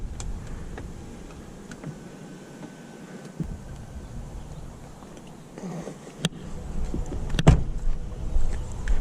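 A power seat motor in a 2023 BMW X7 M60i whirs steadily as the seat moves forward to open the third row, a low mechanical hum inside the cabin with a few clicks and a louder thump near the end.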